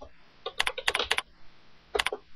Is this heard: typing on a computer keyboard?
yes